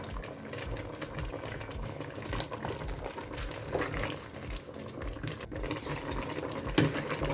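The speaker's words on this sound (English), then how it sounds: "I'm just going to let this to simmer for another 10 minutes" Goat meat pepper soup seasoned with crayfish simmers in a pot, bubbling and popping in a soft, steady patter.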